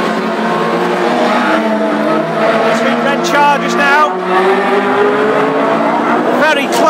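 Classic hot rod race cars racing around a track at Aldershot, engines roaring loudly and close with shifting pitch and occasional tire squeals, under a commentator's running talk.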